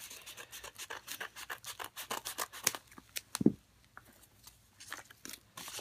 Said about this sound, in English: So I will cut that one carefully.